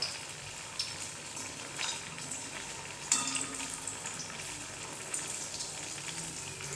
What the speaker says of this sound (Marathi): मीडियम गॅसवरती आपल्याला वडे भाजून घ्यायचे आहेत।